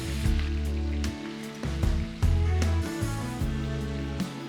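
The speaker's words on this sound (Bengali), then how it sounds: "ম্যারিনেট করা চিকেনটা এবার আমি একে একে ফ্রাই করে নেব।" Marinated chicken fries in oil with ghee for Kolkata-style chicken chaap. It gives a loud, steady, close sizzle with a low bubbling bed, and it swells as pieces are added one by one.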